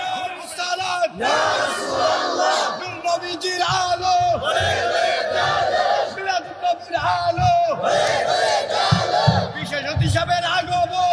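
A large religious gathering at a Ramadan sermon roars back a loud collective chant in repeated surging waves, many voices shouting together and filling the whole stretch.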